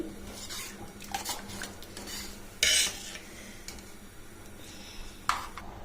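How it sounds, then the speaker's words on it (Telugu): Rice stirred in a pressure cooker pot for kuska pulao, soft scraping with a few sharp metallic clinks of a spoon against the pot, close and fairly quiet. "ఇలా అంతా వేసి పెట్టుకున్నాక ఒకసారి కలుపుకొని పెట్టుకోవాలి"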